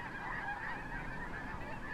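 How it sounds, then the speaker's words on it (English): A large flock of snow geese honks continuously, a dense chorus of overlapping calls heard from a distance. "maybe I'll go see what those snow geese on the other side are doing"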